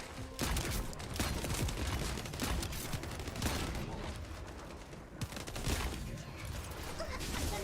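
Sustained SMG fire in the shooter game The First Descendant forms a dense, continuous rattle of rapid shots with brief pauses, loud and close, mixed with other game effects.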